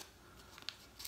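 Tissue paper wrapper around a Permasharp stainless double-edge razor blade being opened, soft close crinkling and tearing with a couple of small crisp snaps, quiet overall.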